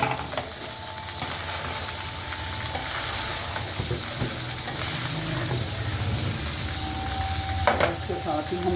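Chopped onions frying for dum keema in a pan with chillies already browned, giving a steady close sizzle with occasional stirring scrapes throughout and no talking.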